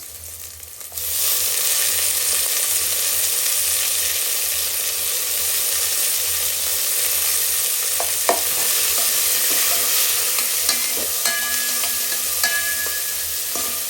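Onions sizzle steadily in a hot pan, a continuous crackling hiss with occasional clinks and scrapes of stirring.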